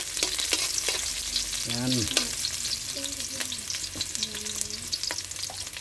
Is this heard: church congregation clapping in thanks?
no